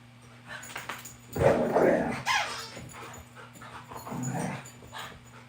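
Several dogs pant and let out short barks and whimpers close by, the sounds rising into loud bursts and then easing back, with a person's voice briefly mixed in.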